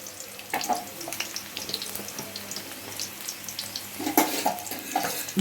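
Garlic and onions frying in oil in a kadai, a steady close sizzle with stirring scrapes and a few brief clinks, continuous throughout with no talk.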